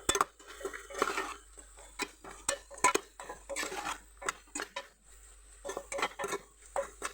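A spoon stirs turmeric and garlic paste in a pan for a chicken dish, making close, irregular metallic clinks and scrapes in short bursts with brief pauses between them.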